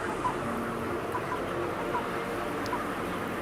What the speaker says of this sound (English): They're only little baby chicks.